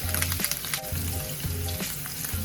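Butter, thyme and garlic sizzle loudly in a hot pan alongside scallops, a dense steady frying hiss with a faint rhythmic stirring or basting pulse under it and no voices.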